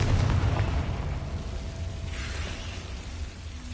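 A Confringo spell blast in Hogwarts Legacy, a deep booming explosion that rumbles loudly at the start and then settles into a sustained low roar with scattered crackle, with no talk over it.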